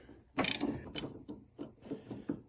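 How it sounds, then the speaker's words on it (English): Wrench loosening the top shock bolt nut on a C6 Corvette: a handful of close, sharp metallic clicks and ratcheting ticks in short irregular bursts, with quiet gaps between them. "So then I just come to the top now, and I just take my wrench"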